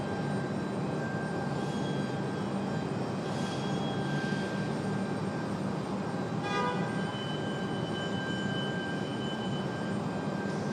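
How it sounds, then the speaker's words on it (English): An Aeromexico Boeing 737 MAX 8 departs Raleigh Durham airport with a constant loud jet roar carrying faint whining tones, steady throughout with no voices. "Aeromexico, AMX 402, that's 737 MAX 8"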